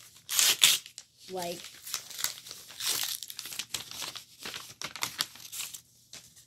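Crinkling and tearing of a mail package holding trading cards, sharp papery crackles and rips at close range, intermittent, with a person talking quietly between the bursts.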